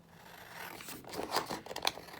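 Scissors cut through material at a close workbench while slot pockets are being made, with soft snips building into a few crisp, louder cuts near the end.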